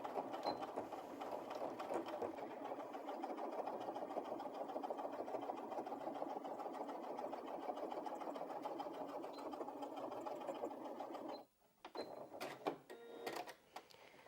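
A Janome 5270QDC sewing machine stitching fabric, a steady fast mechanical whirr with rapid needle ticking that runs evenly and stops near the end, leaving a few scattered clicks and handling noises.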